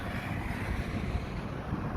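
Wind blows steadily outdoors in Al Buraimi, Oman, a close, continuous rushing buffet over the microphone for about two seconds, with no talk.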